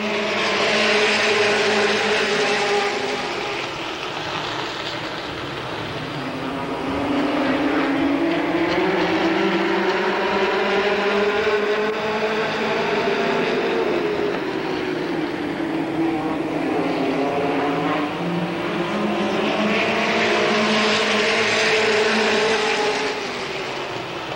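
Late model race cars roar together as they take the green flag at Capital Speedway in 1985, a loud sustained engine drone that rises and falls in pitch as the pack passes, with no speech over it.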